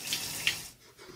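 Water runs from a shower in a steady, soft hiss, quiet and fairly close, with no one talking.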